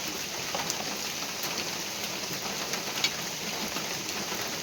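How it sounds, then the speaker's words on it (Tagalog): Dense, heavy rain pours steadily in the countryside, a constant hiss of drops pattering on surfaces close by, with no voices. "Sobrang lakas ng ulan, no?"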